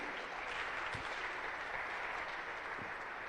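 Church congregation clapping together in a steady, sustained round of applause that fills the room evenly from start to finish.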